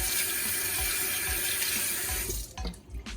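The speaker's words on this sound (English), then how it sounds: "Let me wash my hand." A kitchen tap runs steadily while hands are washed beneath it, a close continuous splash of water that cuts off near the end, leaving a few faint drips and handling sounds.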